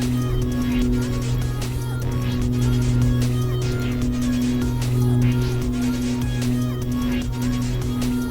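Twin engines of an Aerostar airplane run up to takeoff power on the takeoff roll, a loud steady droning hum with strong low tones and rattling cabin noise throughout.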